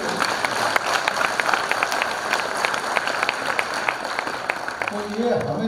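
An audience at a Hindustani classical music workshop claps in dense, steady applause, with fairly regular sharp hand strikes standing out above the rustle of the room.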